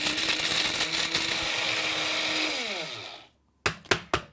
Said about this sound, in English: And then I'm gonna grind all of these up into my coffee grinder here.